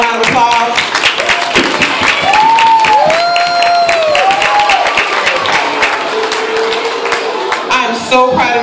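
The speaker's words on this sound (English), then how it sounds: "let's definitely give another round of applause" An audience applauds and cheers after a performance, with sustained clapping and crowd noise, while music with sliding melodic tones plays loudly alongside.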